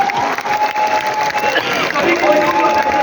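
An audience at a company plan launch event claps loudly on cue, a dense roar of applause and crowd noise, with a voice or tonal sound running faintly through it.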